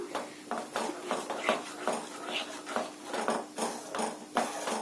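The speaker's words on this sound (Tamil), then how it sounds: "நம்ம இப்போ கைவிடாம கலந்து கொடுத்துட்டே இருக்கலாம்" A spoon scrapes and clinks against a pan in a quick, regular rhythm as a mixture is stirred continuously over low flame, close and fairly quiet.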